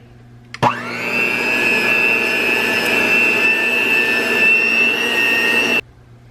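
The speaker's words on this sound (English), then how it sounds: "I'm just gonna use a hand mixer" A hand mixer pureeing cooked pumpkin starts with a sharp jolt and holds a loud, steady high-pitched whir for about five seconds, then cuts off abruptly.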